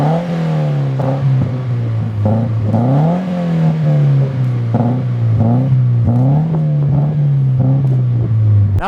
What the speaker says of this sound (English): gotten that engine sound and that mean exhaust clip